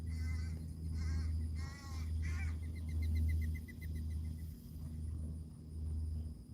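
A pet mockingbird mimics crow caws in a run of harsh, raspy bursts, followed by a string of quicker repeated chirps. The calls sit over a steady low hum indoors.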